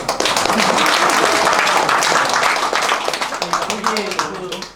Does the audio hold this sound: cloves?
no